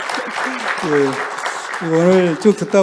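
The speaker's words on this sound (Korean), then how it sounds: "그래서 박수 한번 좀 부탁드리겠습니다." An audience at a carbon-neutrality innovation technology forum claps steadily. A voice speaks over the applause.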